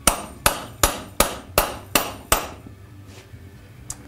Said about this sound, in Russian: Не можешь разобрать 400-граммовым молотком? Бери 600-граммовый.